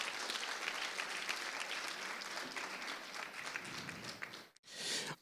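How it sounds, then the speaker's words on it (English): Audience applause at a teacher education plenary session for a professor's talk, a sustained, fairly distant round of clapping that tapers off before a brief cut and a short burst of sound at the end. "Let us give Professor Johnson one more round of applause."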